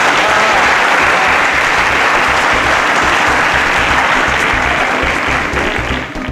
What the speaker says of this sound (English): a round of applause for Adeshola.